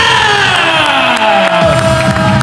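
Basketball fans in a league finals game cheer and shout loudly and continuously, a dense roaring crowd with whoops rising over the din.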